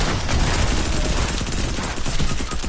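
Dense gunfire in the video game Fortnite, sustained and loud with overlapping shots from several weapons, a continuous barrage of rapid bursts running through the whole stretch.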